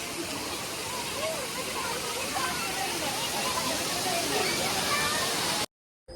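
A waterfall where people have come to fish gives a steady, loud, broadband rush of falling water that runs unbroken for nearly six seconds before cutting out abruptly. Faint voices can be heard beneath the roar.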